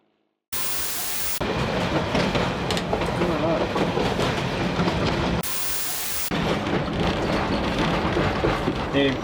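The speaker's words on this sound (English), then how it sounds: "what may be the last Durango and Silverton photo special pulled by a coal-burning Mikado on this line" Coal-burning Mikado steam train on the Durango and Silverton line, heard as a loud, continuous rumble and roar of the train running close by, with bursts of louder noise and no clear talk.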